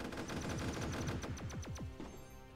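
A rapid burst of gunfire from the artillery game ShellShock Live: a quick string of sharp shots followed by several descending whistling tones, loud and close with no talk.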